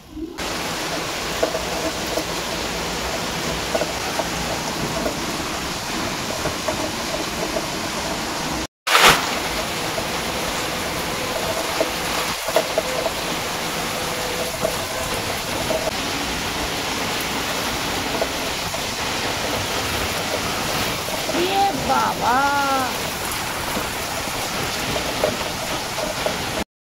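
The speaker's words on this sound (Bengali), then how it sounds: "এর জন্য দেখো আবার মেঘও ডাকছে, সাথে গুড়গুড় করছে।" Heavy rain pours steadily during an evening storm, a dense continuous wash of noise with faint low rumbles of thunder beneath; a voice speaks briefly near the middle.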